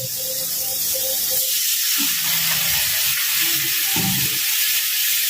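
Water poured into a pan of fried spices for a Bengali katla fish curry, setting off a steady loud sizzle and steamy hiss that runs the whole time, with faint stirring clinks.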